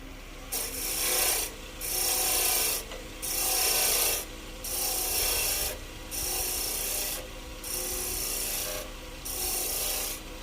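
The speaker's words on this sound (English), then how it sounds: "using the spindle roughing gouge, which is more than an adequate tool in order to do this job" A spindle roughing gouge cuts a wooden blank spinning on a lathe for a calligraphy dip pen, giving about seven even, rasping passes with short pauses between them. There is no talking.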